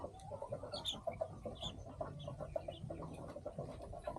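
Chickens and small chicks in a farm coop, with repeated mid-pitched clucks and higher peeping calls overlapping steadily throughout, fairly close and moderately loud.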